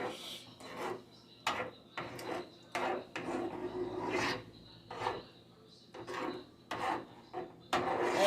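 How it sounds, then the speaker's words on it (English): A spoon stirs thick chili with melted Velveeta cheese in a pot, making repeated rasping, scraping strokes in an uneven rhythm, close and fairly quiet. "Now the cheese is all melted up, and going to keep on stirring it in really good"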